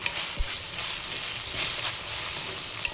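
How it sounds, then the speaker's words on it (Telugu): Ginger garlic paste frying with onions in a pan, a dense continuous sizzle with a couple of soft stirring knocks, close and steady throughout. "ఇప్పుడు దీంట్లో మనం కొంచెం అల్లం వెల్లుల్లి పేస్ట్ వేసుకోవాలి."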